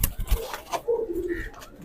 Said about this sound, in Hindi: ये नदीम भाई ने एक कबूतर पकड़ा उस्ताद